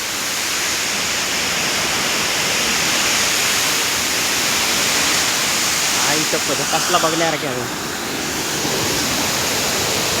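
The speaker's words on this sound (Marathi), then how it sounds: "समोर धबधबा दिसाक लागला होता बघा" Ghonsari waterfall in Kankavli, Sindhudurg, roaring as a steady broad rush of falling water throughout, with a person briefly talking over it near the middle.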